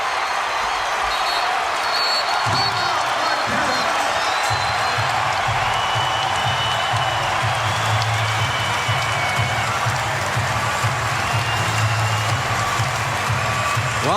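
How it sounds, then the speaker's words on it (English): Basketball arena crowd roaring during a tight Marquette at Providence college game, with a dense, sustained wash of cheering and applause that stays loud and constant while a low rhythmic chant pulses underneath. "suddenly this crowd has come alive"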